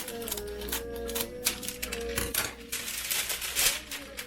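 Scissors cut through parchment paper in a kitchen, giving a quick run of crisp, close snipping clicks and rustles in an irregular rhythm, with faint background clatter.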